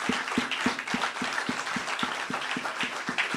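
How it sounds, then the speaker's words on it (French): A church congregation clapping in unison for the word, a steady rhythmic beat of about a dozen claps at an even pace, heard somewhat distant with room murmur beneath. "Clap your hands very well."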